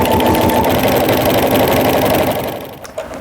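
A home sewing machine with a walking foot stitches through quilted jelly roll fabric for a tree skirt, a loud, fast, even mechanical whirr that runs steadily and then slows and stops near the end.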